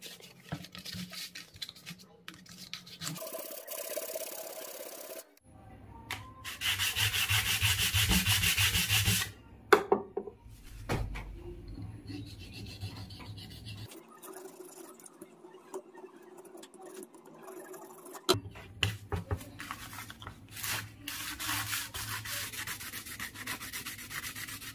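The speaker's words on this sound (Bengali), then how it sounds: "এবার এটাকে ঘষে সমান করে ডিজাইন করে নেব।" Hand sanding smooths a shaped wooden dotara body, rough rubbing strokes coming in bursts of varying loudness with short pauses between them, close up and alone.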